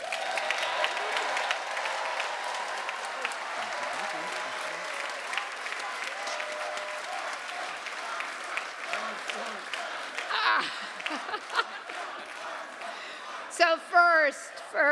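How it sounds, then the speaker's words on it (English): A convocation audience claps in a long, steady round of applause that fills the hall, fading slightly before a voice speaks loudly near the end. "can we give Caden and the NSOP team another round of applause"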